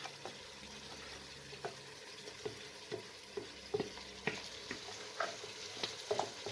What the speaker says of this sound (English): And then I'm gonna go ahead and add my chicken, and I'm adding it with all the marinade, not leaving anything.